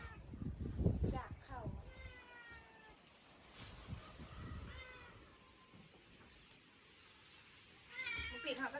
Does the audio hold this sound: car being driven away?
no